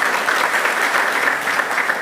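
A crowd applauds at a flag-off ceremony, sustained dense clapping that stays steady and fairly loud without pause.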